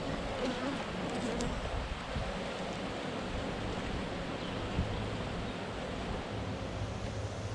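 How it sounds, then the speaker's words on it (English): Bees buzzing inside a beehive with a dense, steady hum of many insects, close and continuous for several seconds, with a wind-like noisy wash beneath. "And there's still bees in here,"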